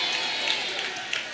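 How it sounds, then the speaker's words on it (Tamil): A church congregation clapping for a Bible verse, a brief, steady wash of many hands applauding together, moderately loud and continuous. "வசனத்துக்கு எத்தனை பேர் கைத்தட்டு கொடுக்குறீங்க?"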